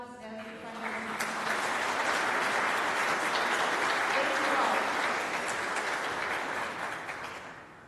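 A church congregation bursts into applause on a Sunday, the clapping swelling quickly, holding loud and dense for several seconds, then fading out at the end.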